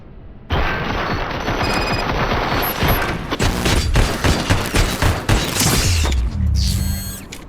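Dense automatic gunfire from the RoboCop: Rogue City video game fills the scene, loud sustained bursts with sharp impacts and booms layered over one another, rattling on for several seconds.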